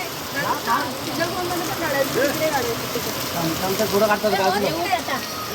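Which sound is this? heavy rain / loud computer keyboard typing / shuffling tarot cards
heavy rain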